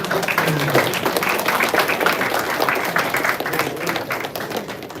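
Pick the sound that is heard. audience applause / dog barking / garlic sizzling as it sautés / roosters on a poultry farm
audience applause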